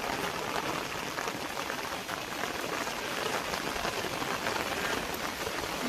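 Heavy monsoon rain pours over flooded farm fields in Dolvan taluka near Vyara, a steady dense wash of falling water and drops with no pauses.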